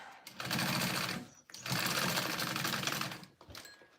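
Sewing machine basting the exterior of a mini backpack, running in two steady bursts of rapid needle chatter, each about a second long, with a short pause between and a brief stop near the end.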